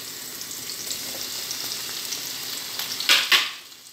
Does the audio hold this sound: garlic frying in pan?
yes